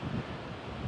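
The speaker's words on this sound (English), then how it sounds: "It's really gusty today." Gusty wind on a coastal walk from Whitby to Scarborough along the Cleveland Way, a brief low buffeting rumble against the microphone with a constant airy roar and no voices.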